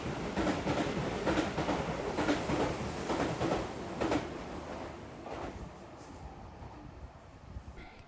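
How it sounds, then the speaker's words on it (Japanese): A train rushes past at close range through Iwashimizu-hachimangu Station on the Keihan line in Japan, a loud steady roar with rhythmic wheel clatter that gradually fades as it moves away. "ホームに上がると同時に電車が通過していきました"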